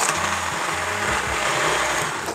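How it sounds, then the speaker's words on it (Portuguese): A hand blender whirs steadily as it purées homemade barbecue sauce straight in the cooking pot, a loud continuous motor hum with slight pitch wobbles, with no voices. "Aqui eu vou usar o mixer de mão mesmo para bater direto na panela."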